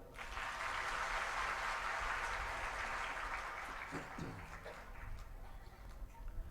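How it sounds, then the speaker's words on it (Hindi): Listeners at a Srimad Bhagavat Katha religious discourse clap together in a fairly faint, even burst that fades after a few seconds, leaving quieter room noise and a brief voice. "आनंद आया तो इनके लिए एक ताली बजाओ।"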